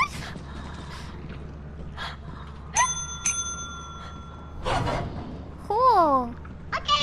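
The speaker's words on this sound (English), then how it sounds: "The bell is so fun. It's like a game of chance every time you ring it." Bell rung inside the video game Lethal Company, two bright metallic dings in quick succession that ring out over a low bed of background noise, followed by a warbling, swooping electronic tone near the end.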